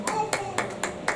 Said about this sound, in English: Clap your hands and celebrate God.